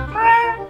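A cat gives a single drawn-out meow, close and clear, rising and falling over under a second with no other sound around it.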